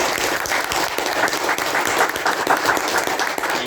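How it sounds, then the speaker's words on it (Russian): Audience applauding the speakers at a student discussion session, steady dense clapping from a crowd filling the room throughout, with no talk over it. "давайте мы похлопаем всем нашим докладчикам"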